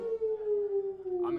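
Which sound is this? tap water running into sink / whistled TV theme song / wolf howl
wolf howl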